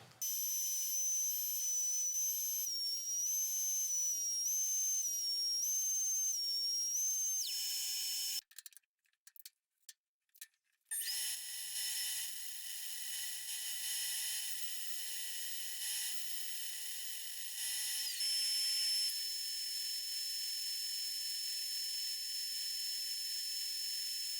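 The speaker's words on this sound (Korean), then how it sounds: "나무를 이 형태로 먼저 재단해 보겠습니다." Power saw cutting a block of wood for a Jazz Bass finger ramp, giving a steady high-pitched whine and hiss that briefly breaks up and stutters midway, then runs on evenly, with no talking.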